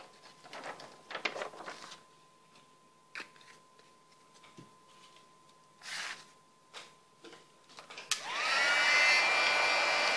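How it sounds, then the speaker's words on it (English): A heat gun switches on near the end to melt gold embossing powder on cardstock, giving a steady loud blowing whir, preceded by scattered close taps and handling sounds. "Heat gun again."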